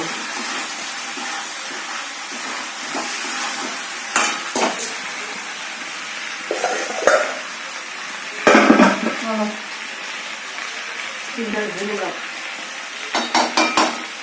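Chicken and potatoes frying in a pan for aloo chicken, a steady sizzle with bursts of scraping and clanking as a spatula stirs and turns the pieces.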